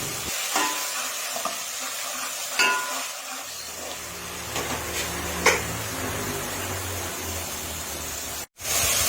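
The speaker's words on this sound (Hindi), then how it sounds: "प्याज तब तक गोल्डन ब्राउन नहीं हो जाए तब तक हम उन्हें फ्राई करेंगे" Chopped onions with cumin sizzling in hot oil in a pan, a steady frying hiss with a few sharp scrapes and clinks of a spoon stirring, then a brief cut before the sizzle resumes.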